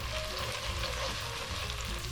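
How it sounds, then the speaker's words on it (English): A red tomato base for Nigerian jollof rice fries and sizzles steadily in a pot while being stirred, a close, continuous crackling hiss with a dense, even texture throughout. "Keep this thing stirring, you don't want it to burn"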